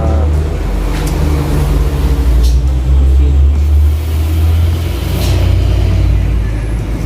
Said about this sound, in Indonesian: suara mobil-mobil yang dimana ini tanjakan, jadi suaranya gasnya kencang seperti itu